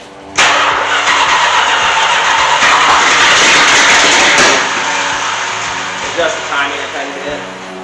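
A 1969 Plymouth Road Runner V8 is cranked over on a weak, tired battery, giving a loud, steady churning drone that runs about four seconds before easing into a rougher, fading rumble; voices are heard alongside it.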